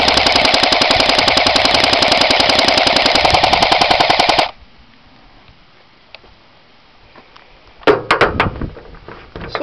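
An AGM MP40 airsoft gun fires one long full-auto burst of rapid, even cracks, loud and close, for about four seconds, then stops. A few sharp clacks of handling follow after a quiet pause.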